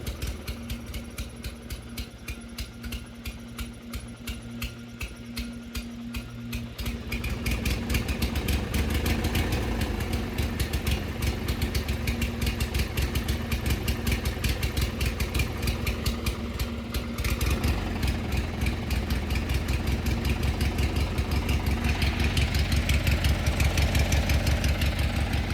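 Racing lawn mower engine with the choke fully out, idling steadily at first, then revving up to a louder, faster-firing rhythmic drone that holds close and continuous to the end.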